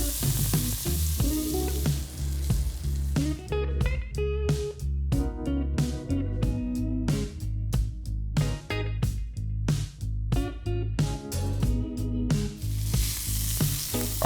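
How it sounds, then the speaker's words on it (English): A ribeye steak sears in a hot pan, giving a steady broadband sizzle through the whole stretch, partly masked by loud background music with rhythmic beats and sustained tones. "So we're just gonna sear this about 4 minutes each side"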